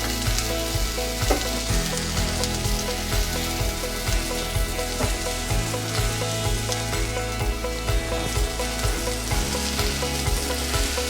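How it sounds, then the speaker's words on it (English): Sliced shallots and mushrooms fry in a hot pan, a loud continuous sizzle and crackle with stirring movements, close and alone without speech. "put in your sliced shallots. Stir those around and let it go 5-6 minutes"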